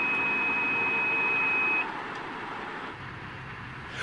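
A truck's forward collision warning gives a high, piercing electronic tone so rapid it merges into one steady note, which cuts off after about two seconds and leaves the low rumble of the cab.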